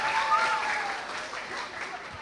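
An audience at a youth climate talkshow festival applauds the presenters, a sustained wash of clapping from many hands that fades slightly over its length, heard at a moderate distance without talk on top.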